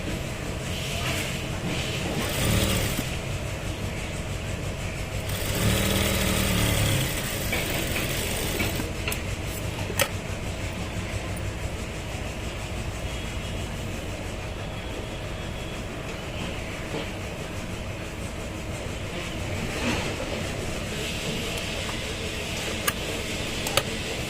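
A sewing machine stitches the bottom hem of a trouser leg, running in a steady mechanical whir with rattling bursts and brief pauses, close and continuous.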